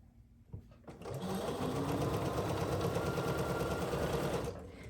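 A sewing machine stitching fabric along a seam guide starts after a soft click, then runs in a steady, fast, close whirring hum for several seconds before slowing to a stop.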